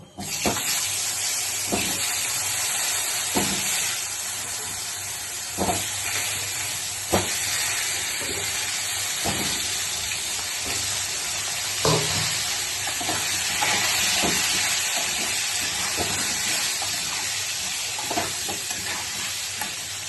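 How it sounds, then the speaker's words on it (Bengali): Potatoes frying in hot oil in a home kitchen: a steady, close sizzle and hiss throughout, with occasional scraping knocks from stirring. "এবার আমি আলুগুলোকে ভেজে নেব।"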